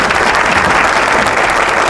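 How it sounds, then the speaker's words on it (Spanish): A live studio audience breaks into loud applause, close and thick, a continuous roar of clapping filling the short moment without any speech. "un aplauso"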